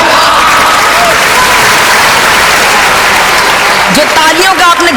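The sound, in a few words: audience applause at a poetry recital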